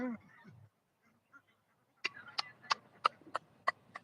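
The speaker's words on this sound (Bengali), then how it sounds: "এই যে হাঁস দেখেন, হাঁসগুলো আবার ওই পারে যাবে" A flock of domestic ducks quacking and honking nearby in a rural village by the water, a brief murmur of voices first, then a run of sharp, evenly spaced loud calls.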